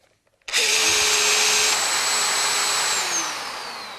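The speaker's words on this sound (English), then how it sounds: "you can hear it runs on for a few seconds after you switch off to clear any dust that's remaining in the ducting" Makita BHR243 rotary hammer with its built-in dust extractor motor whirring loudly and steadily alone, then the pitch sinking as it winds down over the last second after switch-off.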